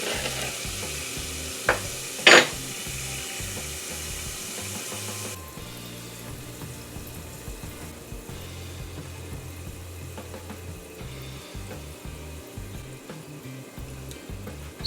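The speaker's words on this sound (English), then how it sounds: "we're gonna add the garlic there. So you just want to brown this garlic a little bit there" Garlic fries in hot oil for dhal with a soft, steady sizzle, briefly broken early by a couple of sharp clinks and later settling into a quieter, even crackle.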